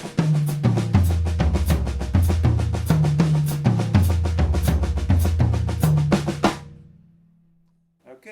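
A drum pattern played around the toms in quick bursts, three single strokes followed by doubles grouped into repeating phrases stepping between pitches, ending with a ringing tom fading out.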